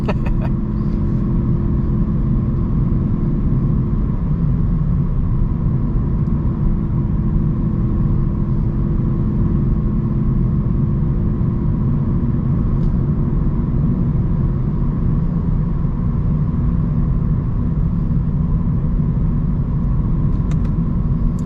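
A Lexus IS500 with a V8 engine is driven on the road, giving a steady low rumble from inside the cabin that holds constant without sharp revving.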